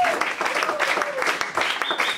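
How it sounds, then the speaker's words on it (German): An audience at a concert applauds after a cover song, with continuous clapping and some voices and cheering mixed in. A few short tonal sounds come through across roughly two seconds. "Applaus."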